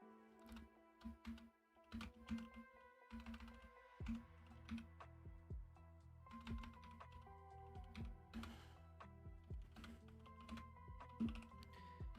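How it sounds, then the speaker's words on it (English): Fingers type on a computer keyboard in quick bursts of crisp key clicks close to the microphone, broken by short pauses, while gentle background music plays. "I'm just typing in Bug Girl because I honestly don't remember"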